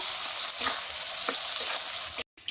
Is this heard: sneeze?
no